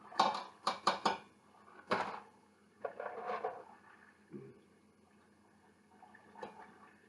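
Colcannon being blended together in a pot, a few sharp clanks of a utensil against the pot followed by softer scraping and stirring, close and fairly quiet with gaps between strokes.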